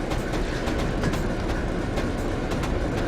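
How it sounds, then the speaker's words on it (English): A Class 73 electric locomotive runs in Train Simulator 2016, giving a loud, continuous rumble with a regular clickety-clack of wheels over rail joints and no voices. "This is primarily an electric locomotive."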